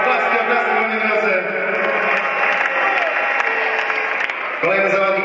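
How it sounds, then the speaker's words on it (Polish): A crowd at a basketball game in an arena applauds the players as they are introduced, with steady sustained clapping and an announcer speaking over it throughout. "Oklaski, moi drodzy."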